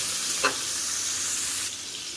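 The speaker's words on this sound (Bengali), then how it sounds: "চিংড়ি মাছটা ভাজা করে নেব।" Shrimp frying in hot oil gives a steady, close sizzling hiss with one brief pop early on. The sizzle eases slightly near the end, and no one speaks.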